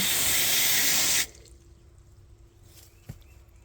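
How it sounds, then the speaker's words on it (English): Garden hose gushing water into a chicken waterer, a loud steady rush that cuts off abruptly after about a second, followed by quiet with a few faint drips. "I just stick the hose right in here to fill it up"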